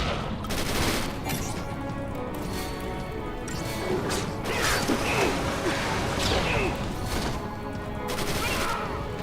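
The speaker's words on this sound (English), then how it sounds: "Let's do a hand grenade on that thing." A hand grenade attack in the Final Fantasy XIII video game brings a dense, continuous barrage of crashing blasts and debris-like clatter. It is loud and sustained, with overlapping impacts throughout.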